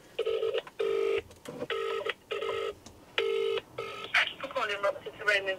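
Telephone keypad tones beep in a quick series of separate pulses as a number is dialled to call a campsite at a pub, followed by a faint ringing line, with no talking.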